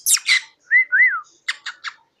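A pet parrot calls up close and loud. Two harsh squawks are followed by two rising-falling whistles, then three short chirps.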